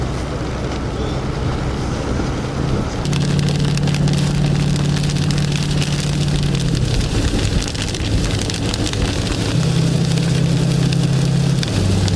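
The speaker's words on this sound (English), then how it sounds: "Just got in my truck and it started raining." Steady rain drums on the roof of a pickup truck in a thunderstorm, a constant dense patter close around the cab, with a low idling hum shifting in pitch underneath.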